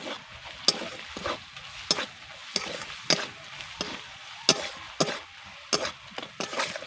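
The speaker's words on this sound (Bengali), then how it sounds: "এবার ভালো করে সব কিছুকে মিশিয়ে নেব" Shimul kanta fish is stirred together with chilli powder, salt and spices in a pan, giving rhythmic scraping strokes about every half second over a low sizzle, close and without talk.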